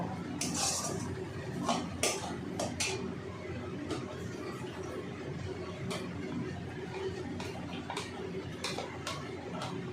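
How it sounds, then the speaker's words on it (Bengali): Rohu fish curry with spices and poppy seed is stirred in a pan, with repeated sharp metallic knocks and scrapes of a utensil against the pan over a low background hiss. "ভালো করে মশলার সাথে দু মিনিট কষিয়ে নেব"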